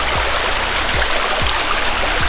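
A stream at Aare Falls in Nagalapuram rushes steadily in a loud, close, continuous wash, with a few low gurgling pulses at regular intervals beneath the flow.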